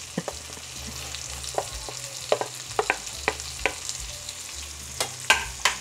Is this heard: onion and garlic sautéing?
yes